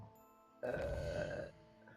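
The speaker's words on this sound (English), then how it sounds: "Belch." A character in the video game Hogwarts Legacy lets out one deep, rasping belch lasting nearly a second, loud and sudden against quiet game ambience.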